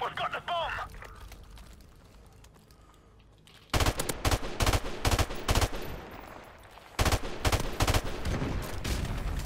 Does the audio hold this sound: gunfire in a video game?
yes